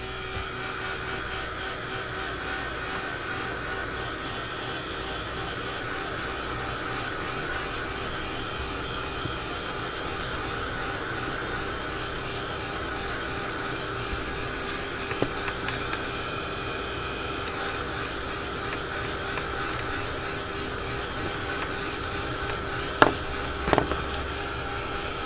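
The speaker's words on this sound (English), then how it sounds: "I may have to turn on my heat gun just a little bit to make sure that she gets good and dry" A heat gun blows steadily over shimmer powder on a stencilled card, a continuous whining, whooshing hum held at even loudness for the whole stretch, with a few faint clicks near the end.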